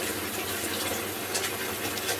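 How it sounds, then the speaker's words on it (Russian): Water pours steadily from a tap into a tub, a constant splashing gush, close and fairly quiet, with no voices. "Но при этом ванна заполняется водой."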